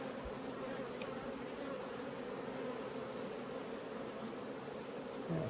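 Honeybees at an opened hive, during splitting and nuc making, buzz in a constant, dense, close drone that holds steady, with no talk.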